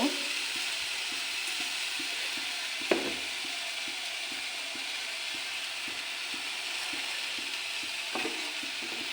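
Grated coconut and sugar are stirred in a hot pan. A rhythmic, repeated scraping of strokes runs over a constant soft sizzle, with one sharper knock near the start and another near the end.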